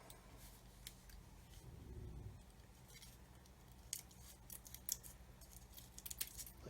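Small scissors trimming thin foil on a Revell 1/144 Apollo Saturn V model kit, faint close snips and light crinkling over a quiet room hiss.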